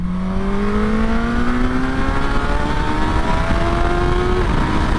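A 2024 Suzuki GSX-S 1000 GX motorcycle accelerates hard in second gear, its engine note rising steadily in pitch as it pulls, loud and continuous with heavy wind and road roar under it and no talk.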